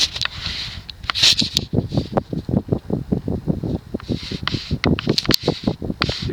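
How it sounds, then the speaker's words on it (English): A 2021 Fanimation Kute 52-inch ceiling fan produces a steady airy whoosh with a soft, regular pulsing from the turning blades, continuous and fairly close. "it's already starting to produce wind noise, and that's about the only noise this fan makes"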